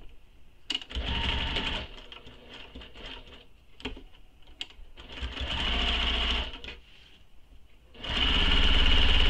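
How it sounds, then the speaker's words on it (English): A sewing machine stitches all the way around a backpack strap in several bursts of varying length separated by brief pauses and clicks, loud and close, ending in a strong continuous run. "So I'm just going to stitch all the way around."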